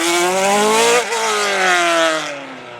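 A Judd Formula One-engined hillclimb race car screams at high revs, with a short dip as it shifts before climbing again, then fades as it pulls away up the hill.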